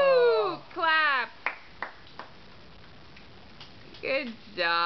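A few separate hand claps during a home dancing session, spaced out and sharp, between stretches of excited voices including a child's.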